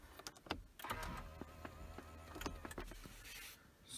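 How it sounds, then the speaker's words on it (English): The electronic parking brake on a 2017 Lexus RX350 engages with a whirring electric motor and a series of small clicks and knocks, heard up close and quiet. "Now it's time to activate the e-brake, get that set"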